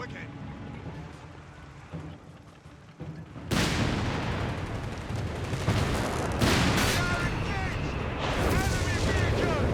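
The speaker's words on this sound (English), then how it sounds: "More Bishop fire, more heavy casualties for the Germans." Bishop self-propelled artillery firing in Company of Heroes 3, dense rolling booms and crackling explosions erupting loudly after a quieter start, mixed with ongoing battlefield noise and a caster talking over it.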